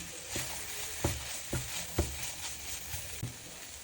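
Softened vegetables frying in a pan with butter just added, a quiet sizzle broken by a series of soft scraping stirs at an uneven pace.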